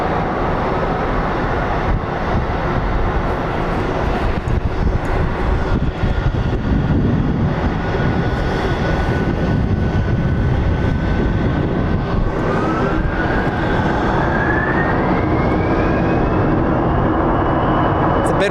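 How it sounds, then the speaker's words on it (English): A steady, broad roar of jet engines from planes taking off and landing at Phoenix Sky Harbor International Airport carries on with wind buffeting throughout, and a rising whine swells near the end. "watch some planes take off, land"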